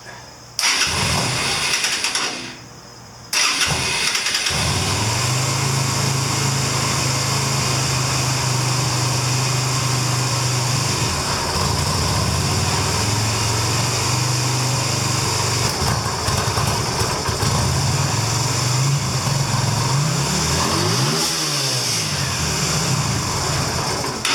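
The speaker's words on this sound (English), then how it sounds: "So let's start the bike and see what it sounds like real quick." A 2000 Yamaha Virago 250 XV250 motorcycle with its air cleaner fitted cranks over, briefly stumbles, then fires and settles into a loud, steady idle close by, with slight rises in revs near the end.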